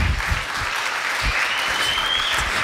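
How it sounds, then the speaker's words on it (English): An audience at a talk on impeaching Cheney breaks into steady applause, a full, even wash of clapping from a crowd that holds throughout, with no talk over it. "I just always get applause just mentioning that bill exists."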